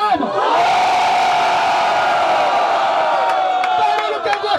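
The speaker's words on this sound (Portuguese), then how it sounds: "Barulho quem gostou da rima do MC Nego Drama" Rap battle crowd at a Rio de Janeiro freestyle MC final roars and cheers continuously, a loud sustained wall of shouting and whooping voices with scattered claps.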